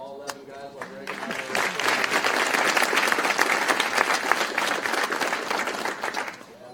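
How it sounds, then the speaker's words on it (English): Audience at a K9s For Warriors graduation ceremony breaks into loud, sustained applause. It swells after a brief lead-in with a voice and holds thick and even to the end. "So Bill and James, I'd like to give you a special round of applause"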